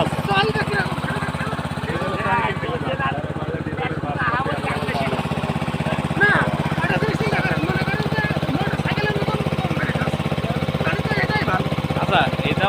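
A petrol water pump engine runs steadily on octane fuel with an even, droning hum, while people talk nearby over the noise throughout.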